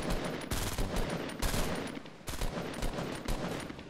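Rapid bursts of gunfire in a battle royale video game, dense overlapping shots that keep up nearly nonstop, loud and close, with a few brief lulls between volleys.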